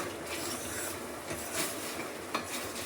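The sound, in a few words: stirring boiling paneer gravy with a spoon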